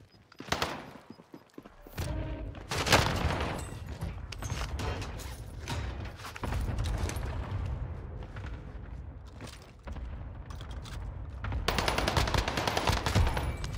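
Gunfire in the video game Warzone: bursts of automatic fire and sharp single shots in a dense, continuous stretch, with mechanical clanks and booms and no talking.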